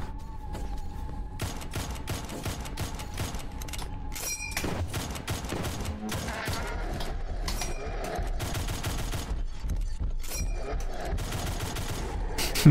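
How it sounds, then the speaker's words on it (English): Dense, rapid gunfire from the video game Mohrta, fired while the character moves backwards: bursts of shots and heavy thumps rattle on continuously and loudly with no pauses. "Moving backwards and shooting"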